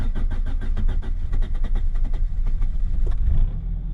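A car engine runs while warming up in extreme cold around minus fifty, a close, loud, rough rumble with a rapid pulsing beat that stays steady and then eases slightly near the end.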